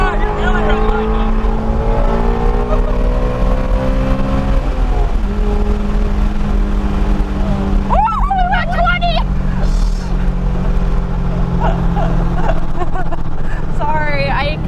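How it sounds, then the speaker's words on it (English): A Ford Mustang GT350 V8 engine revs hard up toward the rev limiter, a loud close sustained roar with rising and falling pitch sweeps, while excited voices talk and shout over it. "Sorry, I kind of revved it too much."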